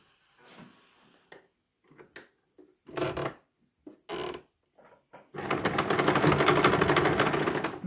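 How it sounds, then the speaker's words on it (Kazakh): A sewing machine runs zigzag and overlock stitches along a fabric edge while sewing a kimeshek headdress. Short, stop-start bursts of stitching come first, then the machine runs in one long, steady whirring stretch near the end. "Мына жерін мен зигзагтай саламын"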